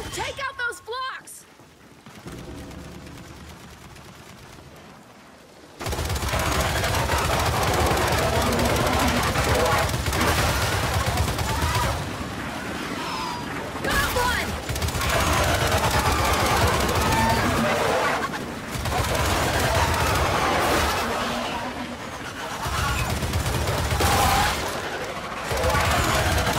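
Heavy sustained turret gunfire in the Gears 5 video game, loud dense bursts of rapid shots that start after a few quiet seconds and continue with brief pauses, along with explosions and battle noise.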